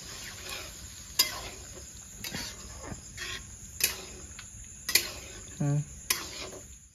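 Chicken kosha cooking in a pan after water is added, a soft continuous sizzle and simmer broken by a few sharp utensil clinks and scrapes against the pan, close up with no talking.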